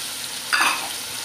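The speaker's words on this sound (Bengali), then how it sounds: "শুটকিটা এখানে ফ্রাই হয়ে যাবে।" Dried icha shrimp (shutki) frying in a pan with bitter gourd, a brief soft sizzle and stir swelling up once, close and fairly quiet, no talk.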